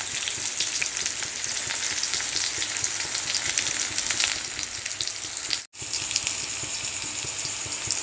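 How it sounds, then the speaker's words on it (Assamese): Onions frying with whole cumin seeds in hot oil make a dense, continuous close sizzle that holds steady throughout, with one brief dropout near the end. "আৰু দুটামান গোটা জিৰা, আৰু দি দিলোঁ ইয়াত পিঁয়াজ"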